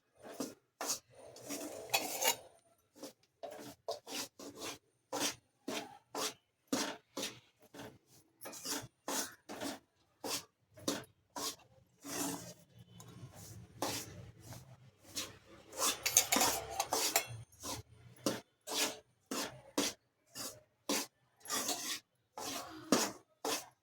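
Repeated rough scraping and rasping of a utensil against a pan as semolina is stirred and roasted in tempering, in quick irregular strokes with brief pauses, close and fairly loud, with no talking.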